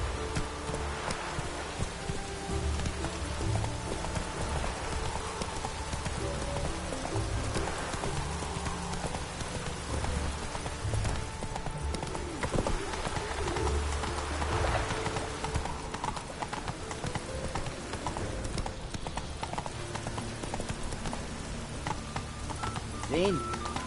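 Roach the horse gallops at a sustained pace in The Witcher 3, rhythmic hoofbeats running steadily for over twenty seconds amid rain-like ambience, with a voice talking at times.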